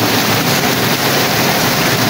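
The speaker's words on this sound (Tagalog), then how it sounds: "Lakas ng ulan, no?" Loud, dense, unbroken roar of heavy rain, a constant wash of noise with no pauses and no voices.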